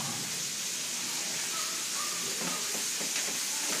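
Fried chicken sizzles in a home kitchen, a steady broad hiss of frying oil heard up close with faint crackles and no voices.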